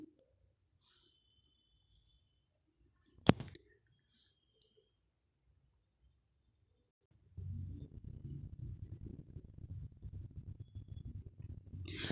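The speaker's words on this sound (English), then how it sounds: "clicking the particular cell for 2 times" A single sharp mouse click lands on a spreadsheet cell amid near silence, followed later by a low, continuous rumbling background noise.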